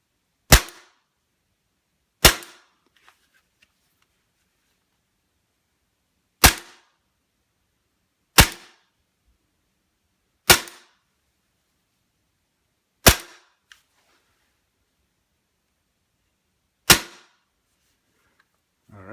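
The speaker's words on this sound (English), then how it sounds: "I'll do some dry firing. See if I have some gas in here." Tokyo Marui M&P 9 V-Custom gas airsoft pistol dry firing, seven sharp, loud, isolated pops spaced irregularly about two seconds apart, each snapping off instantly into silence.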